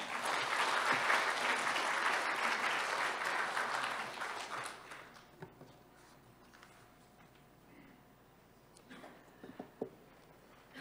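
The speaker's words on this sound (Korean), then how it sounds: "발제해 주신 박래창 과장님께 다시 한번 큰 박수 부탁드립니다." Audience applause after a presentation at a district policy forum on waste and cleaning: loud, dense clapping for about five seconds that fades to a quiet room with a few scattered claps.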